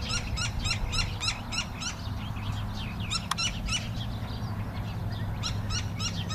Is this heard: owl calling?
yes